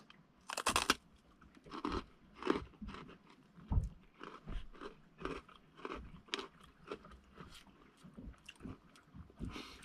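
Someone bites into and chews a crumbly ice cream cookie, giving soft close crunches and mouth sounds in an irregular rhythm, with faint wind noise behind.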